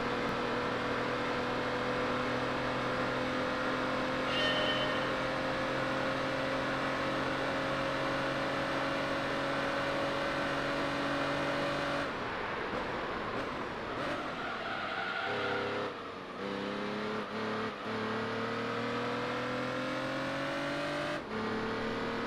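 Race car engine in Gran Turismo 3 during a time attack lap, a loud sustained high-revving drone holding steady, then rising and falling through gear changes as the car brakes and accelerates into corners.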